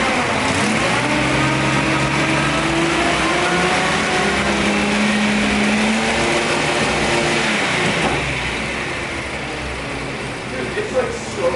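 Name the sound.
Datsun 240z car engine revving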